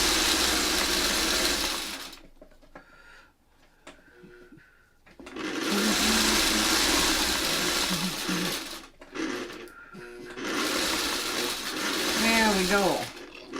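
A sewing machine stitches a Y seam on a star quilt in three fast mechanical bursts of whirring, separated by pauses filled with fabric handling and a brief voice.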